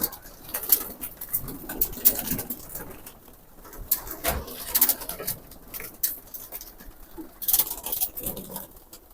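Pigeons crowd into a coop shared with chickens, soft cooing mixed with a busy patter of feet and wing flutters, close and continuous with no talk.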